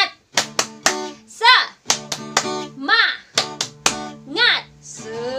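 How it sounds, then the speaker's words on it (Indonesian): Children clap the tepuk semangat rhythm together at a Sunday school service, sharp patterned claps in short bursts alternating with chanted children's voices, close and lively. "Kita tepuk semangat sama-sama ya"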